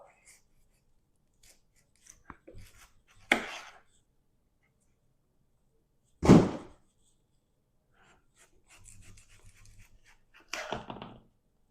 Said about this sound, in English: you start off by just cutting the ends off